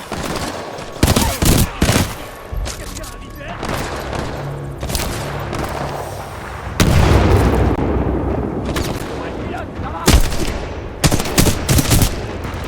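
Rapid bursts of gunfire in the video game Titanfall 2 crack out in repeated clusters over several seconds, loud and close, mixed with heavier booms and a continuous roar of game action.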